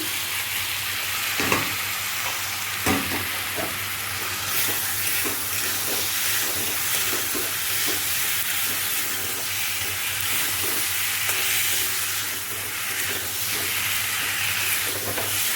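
Boiled potatoes frying with spices in an egg curry, a continuous close hiss and sizzle broken by occasional scraping stirs of a spoon against the pan, no one talking.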